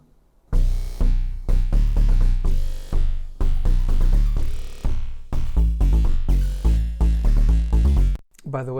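Stacked bass layers and sub bass from a remix play together in a dense, loud, pulsing electronic pattern of repeated punchy hits, cutting off briefly near the end.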